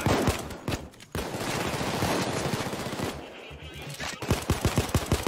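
Rapid automatic gunfire aimed at police in the PAYDAY 2 video game, loud sustained bursts and fusillades with a short pause, then a string of separate sharp shots near the end, with a voice briefly underneath.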